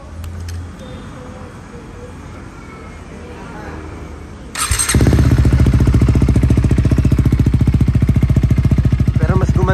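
A KTM Duke 390 with a shorty exhaust pipe starts up after a few seconds of quiet background, then idles loudly with a rapid, steady, throbbing exhaust pulse close to the microphone.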